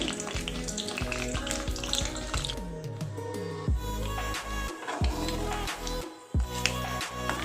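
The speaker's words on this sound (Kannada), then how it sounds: "ಇದಕ್ಕೆ ಸಾಸಿವೆ ಜೀರಿಗೆ ಕಡಲೆಬೇಳೆ ಇಷ್ಟನ್ನು ಹಾಕೋತಾ ಇದ್ದೀನಿ" Mustard seeds, cumin and chana dal sizzle and crackle in hot oil for masala upma, with continuous frying hiss, seeds popping, and a spoon clinking and stirring against the pan.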